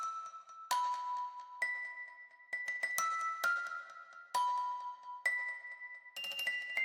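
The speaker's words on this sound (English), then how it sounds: "I've added a keyscape music box" A Keyscape music box drenched in heavy reverb plays a slow, sparse melody of bright tinkling plucked notes, each ringing out and blurring into the next, with no voices.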